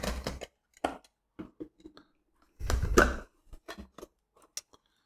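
Box packaging for a 512GB Steam Deck is sliced open in a few short, sharp cutting and scraping bursts separated by pauses, close and fairly quiet, with no speech.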